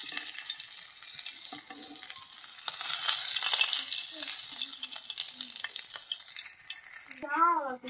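Potato pakoras frying in hot oil give a steady close sizzle with occasional stirring scrapes, and a brief tonal sound rises near the end.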